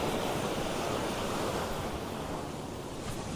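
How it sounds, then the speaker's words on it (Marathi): Sea waves break on a beach at Kunkeshwar, a steady loud wash of surf with wind across the microphone, no one speaking. "हा लाटांचा आवाज कानी पडतोय"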